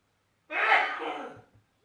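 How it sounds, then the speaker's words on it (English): A single burst of sneeze, sudden and breathy, lasting about a second in an otherwise quiet room. "That's my husband having a very loud sneeze."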